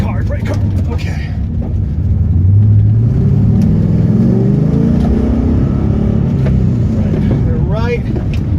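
A Pontiac GTO's engine roars and revs through an autocross course, a loud rising and falling engine note with changing gears, heard from inside the car under continuous excited talk from the driver.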